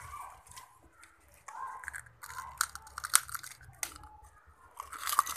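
Crunchy snack being chewed close up, a series of crisp irregular crunches and bites with brief quiet gaps between them, no talking.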